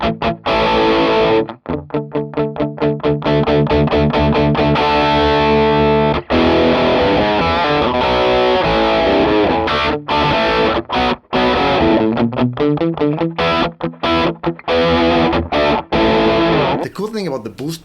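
Electric guitar played through a Gokko Salem treble boost pedal with the range control maxed, giving a bright, driven tone; a steady run of loud strummed chords and riffs with frequent short stops, filling the whole stretch with no voice over it.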